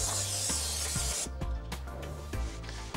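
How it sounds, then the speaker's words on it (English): A hissing degreaser spray from an aerosol can in the first second, then short bursts and scraping rubs follow, close by, with no talking. "give this little bit of a spray"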